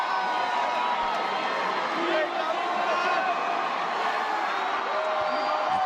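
A dense, roaring crowd at a performance fills the space continuously, a broad wash of cheering and shouting with voices blended throughout.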